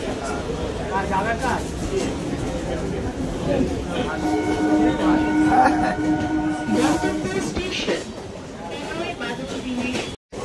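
A Sealdah–BBD Bag local train pulls out of Tollygunge station with a steady rumble and rattle, a brief horn-like tone sounding midway, while someone talks over it.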